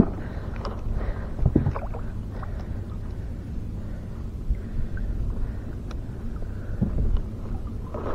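Boat engine on a fishing trip at sea, a low steady hum rumbling underneath wind and water noise, with occasional knocks and bumps, continuous and close.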